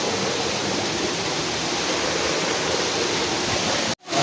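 Tublihon Falls in Ibahay: a steady, loud broadband roar of cascading water, close and continuous, cutting off abruptly near the end.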